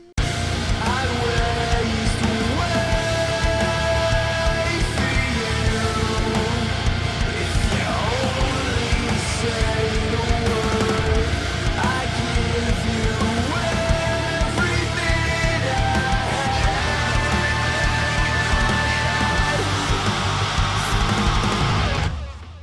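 A dense, heavy wall of distorted low-tuned guitars with drums and hazy layered tones in a modern shoegaze song, loud and steady throughout with no break.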